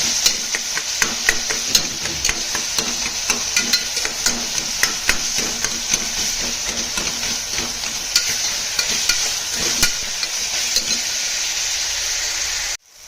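Curry leaves and coriander sautéing in a pan, a constant bright sizzle with frequent scraping and stirring taps throughout, close and loud, cutting off abruptly at the end.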